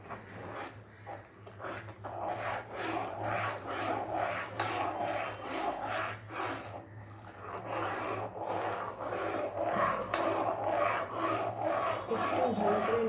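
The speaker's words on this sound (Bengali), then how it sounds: "এটাকে ভালো করে নাড়তে থাকবো।" Milk being stirred in a pot, a repeated scraping, rubbing rhythm of utensil against metal, close and fairly quiet, with no talk.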